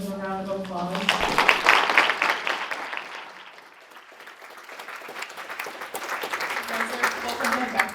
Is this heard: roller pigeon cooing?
no